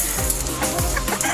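Native chickens on a rooftop garden farm cluck in short, close bursts, several quick calls overlapping across a brief moment.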